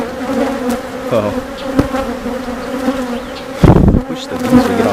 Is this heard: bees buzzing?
yes